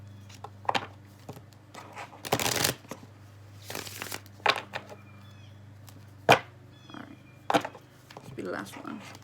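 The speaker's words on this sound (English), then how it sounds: "These cards are always so hard for me to figure out how to shuffle" Crisp bursts of tarot cards being shuffled, several quick riffles with pauses between, close by, with occasional quiet speech.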